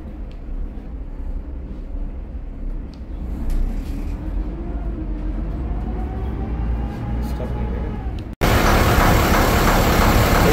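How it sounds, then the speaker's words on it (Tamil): The engine of a Kerala houseboat in Alleppey runs as a steady, loud low rumble throughout, becoming suddenly louder and harsher near the end as if heard up close. "இதுதான் போட் ஹவுஸோட இன்ஜின். இங்கே தான் ரன் ஆகுது."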